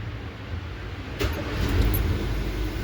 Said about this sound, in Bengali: ইঞ্জিন স্টার্ট করে সাউন্ড চেক করব যে ইঞ্জিনের সাউন্ড কোয়ালিটি কী দাঁড়ালো।